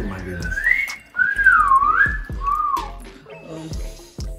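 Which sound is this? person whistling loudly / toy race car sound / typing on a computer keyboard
person whistling loudly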